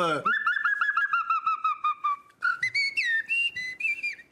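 A person whistles an imitation of a blackbird or woodpecker, a quick run of repeated chirping notes followed by sliding, swooping phrases, close and clear.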